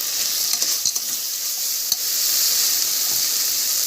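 Peanuts roasting in a pan with spices for Maharashtrian masale bhat, a loud steady sizzle with a few sharp scrapes and knocks of a stirring spoon, close up and with no talk.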